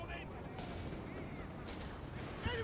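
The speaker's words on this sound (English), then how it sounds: "Good use of the artillery too" Artillery fire in Company of Heroes 3 during a British Forces 1v1 match: dull, booming blasts rumble through dense battlefield noise, with a louder thump near the end.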